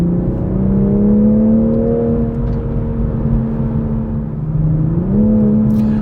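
A BMW engine with Active Sound Design in sport mode gives a loud, steady, close droning note with layered harmonics, then briefly rises in pitch near the end. No one speaks.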